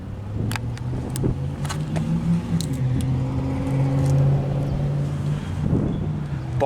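A 1999 Chevrolet Suburban K2500 with a 5.7-litre V8 and single exhaust idles steadily with a low, throaty rumble, close by, with some wind buffeting the microphone.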